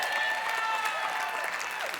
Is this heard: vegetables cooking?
no